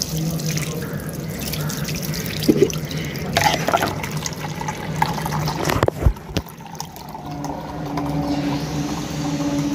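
Water is poured out for chicks on a veranda, a running, splashing trickle with a few drips and clinks amid low background noise and some faint chatter.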